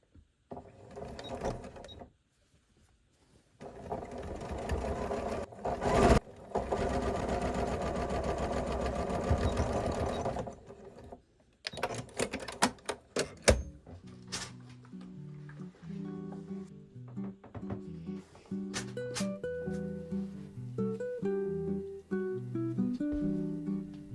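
A home sewing machine stitches a trouser hem in long steady bursts, pausing briefly between runs, followed by slower, uneven stitching with clicks.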